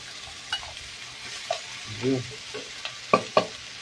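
Pork ribs, already softened in a pressure cooker, sautéing for kaldereta: a quiet, steady sizzle with scattered stirring scrapes and clatters, close by.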